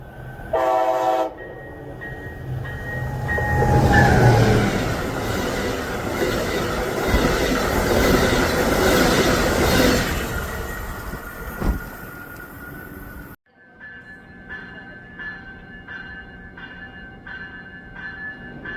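A new Amtrak Cascades Airo passenger train rumbles past close by in Washington, a loud steady roar with wheel clatter and squeal, then a quieter rhythmic clicking as the cars roll away.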